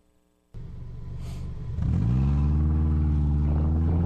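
A rallycross car revs at the start line: a steady idle jumps into a loud, rising engine roar that builds and holds, close and dominant, with no talk over it.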